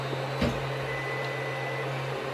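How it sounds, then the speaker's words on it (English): A Creality CR-10 Mini 3D printer resumes a print after a power failure, its stepper motors giving a steady, faint whine and hum, with a brief knock near the start. "it looks like the printer's going to do the job again"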